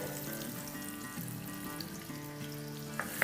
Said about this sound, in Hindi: अब इसमें हम डाल देंगे एक छोटी प्याज जिसको मैंने चॉप कर लिया है